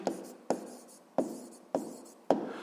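Pen or pencil writing an answer on paper in a maths lesson, with five sharp strokes at irregular intervals, each followed by a short scratchy trail, close and quiet.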